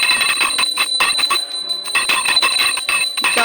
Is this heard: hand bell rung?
yes